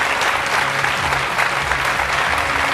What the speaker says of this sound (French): Très applaudi, c'est normal.